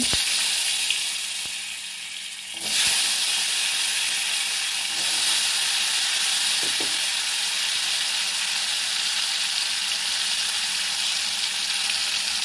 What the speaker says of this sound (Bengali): এবার আলুগুলো ভেজে উঠিয়ে নেবো